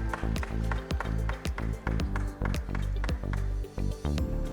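An audience claps at an IEEE SMC gala dinner: steady, loud hand-clapping from a crowd, sustained and close, with no talk over it.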